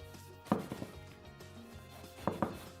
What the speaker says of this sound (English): Now we cut the milk baguette.